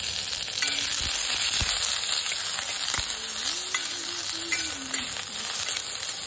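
Chopped onion fries in a little oil in a pan for a rustic drumstick-pod vegetable dish, giving a steady close sizzle with occasional sharp pops and ticks of a utensil, no voices over it.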